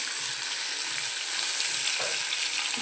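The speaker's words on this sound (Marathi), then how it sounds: "आता आपण फोडणीच करून टाकते" Steady, dense sizzling of garlic and cumin tempering in hot oil, a continuous crackling hiss close by with no voices.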